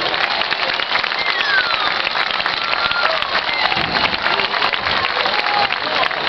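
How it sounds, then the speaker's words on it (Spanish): Crowd applause during an emergency services drill in Spain, dense continuous clapping from many people, steady and fairly close throughout. "Un aplauso para ellos."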